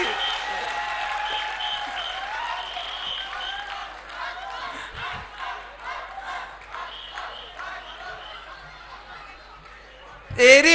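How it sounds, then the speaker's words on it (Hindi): An audience applauds at a live stage comedy show, the clapping running beneath talking voices throughout before a louder burst at the very end. "सारे लोग ताली बजाओ, नहीं तो चूड़ी रात भर यही अटकी रहेगी।"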